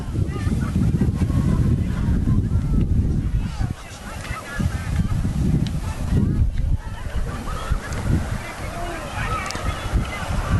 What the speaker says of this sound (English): Nice and windy here on a January afternoon.